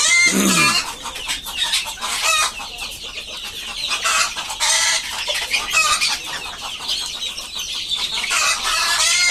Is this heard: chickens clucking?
yes